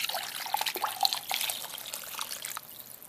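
Water and vinegar for a hot sauce are poured in, giving a close, splashing trickle with small drips that fades out over a few seconds.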